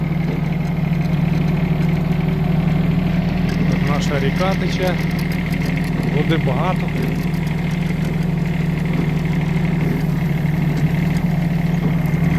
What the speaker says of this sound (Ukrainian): я своїм трактором проїжджаю сміло